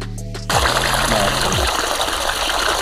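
Water gushes steadily into an old rusty wheelbarrow holding sand and concrete mix, starting abruptly after a brief pause and continuing as a loud, close, constant pour.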